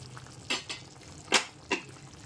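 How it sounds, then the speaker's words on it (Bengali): Chicken curry being stirred in a pot, with a few distinct scraping strokes of a spoon against the metal, close and clear, under a low steady background hum. "এবার উপর থেকে নিচে খুব ভালো মতো নেড়ে নিচ্ছি।"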